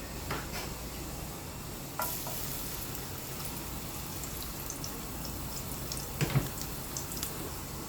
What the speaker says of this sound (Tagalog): Gisa ang ating garlic.